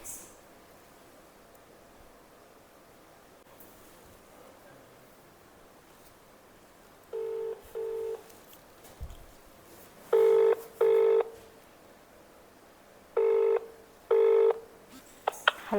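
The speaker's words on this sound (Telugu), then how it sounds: "సో ఇప్పుడు మా అమ్మకి కాల్ చేద్దాం." A phone call is placed from a handset: after quiet background hiss, loud electronic tones sound in short evenly spaced pairs, clear and close, with no talking.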